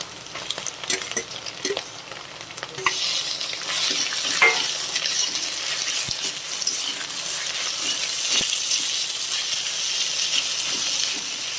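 Egg and grated potato fry in a hot pan, a steady close sizzle and hiss that builds after the potato goes in, with occasional faint stirring clinks.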